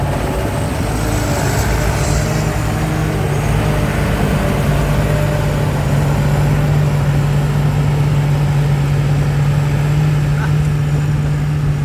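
A combine harvester's turbocharged Hino J08 diesel engine runs with a steady, loud drone and constant mechanical clatter, close by and unbroken throughout, with no talk over it.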